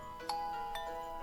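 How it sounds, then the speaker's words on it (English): A two-tone doorbell chime in the Senren Banka visual novel sounds twice, bright and clear over faint background music, with no one speaking. "the doorbell sounds"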